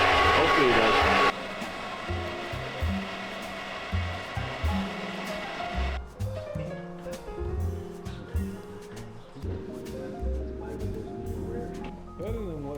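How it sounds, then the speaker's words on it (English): A hair dryer blows steadily onto a fire with a constant whirring hiss, voices talking over it at times. "I'm trying to revive it with a fucking hair dryer"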